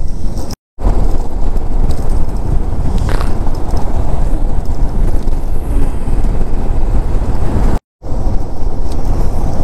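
Cold wind buffets the microphone on a mountain motorcycle ride between Pokhara and Muktinath in Nepal, a loud, constant rumbling roar that cuts out twice for brief gaps.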